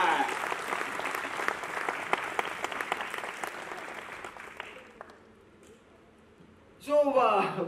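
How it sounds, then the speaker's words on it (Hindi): A studio audience on a TV singing show set bursts into loud, dense applause lasting about five seconds before thinning out, followed by a person talking near the end. "जोरदार तालियां"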